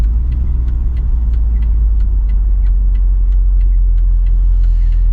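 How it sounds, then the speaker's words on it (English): Engine of a 1970 Mercedes-Benz 280SE 3.5 Cabriolet drones low and steady from inside the car as it drives and slows, with faint ticking and rattles over the rumble and no speech. "It downshifts nicely as we're decelerating"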